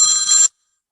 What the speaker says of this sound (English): Like I'm getting a phone call.